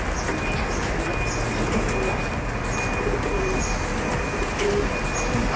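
Pigeons coo repeatedly in soft, rounded calls from a loft, heard close and clear over a steady low rumble of background noise, with no talking in between.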